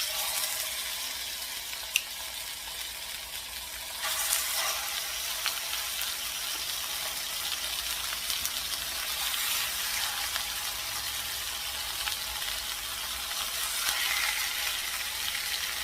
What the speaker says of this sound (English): So right here we have a pan with oil already, and it's pretty hot, so we're gonna use just this with the pork on it.